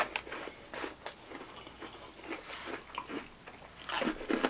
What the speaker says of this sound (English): It's like a homemade brownie, which is crunchy with Reese's Pieces.